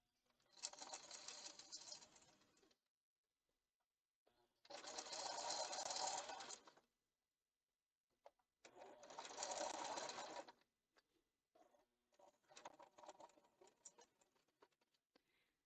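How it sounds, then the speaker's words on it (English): Sewing machine running a basting stitch to attach a lapped zipper with a zipper foot, in three sustained bursts of stitching separated by pauses, followed by lighter intermittent clicking and handling. "I'm going to stitch just right on top of that line using my zipper foot and removing my pins as I go."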